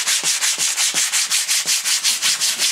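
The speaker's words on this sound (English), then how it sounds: "Normal paint, when you sand it, you get dust." Steady back-and-forth sanding of soft, gummy paint on a bash plate, about a dozen even rasping strokes in a regular rhythm, close and loud with no talking.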